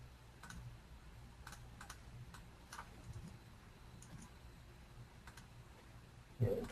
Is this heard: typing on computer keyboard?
yes